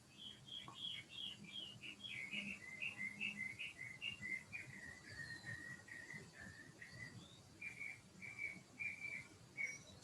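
Small birds sing continuous high chirping, twittering phrases at a moderate distance over a soft outdoor background hum, with no voices.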